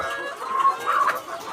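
Country hens clucking in a poultry coop, a few close, moderately loud cackling calls with no voices over them.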